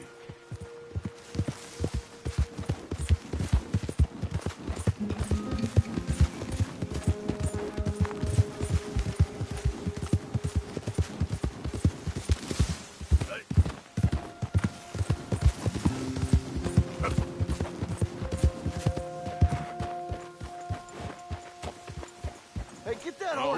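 Horse hooves clip-clop in Red Dead Redemption 2, a steady, loud, rhythmic walking gait that continues throughout, with in-game tones and occasional voices mixed underneath.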